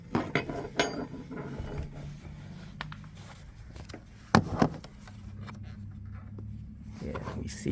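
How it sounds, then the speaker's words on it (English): Someone pries a plastic trim panel loose inside a 2014–2020 Volkswagen Golf, making scattered close clicks, snaps and creaks. Quiet speech runs underneath at times. "I'm going to pry this out a little bit."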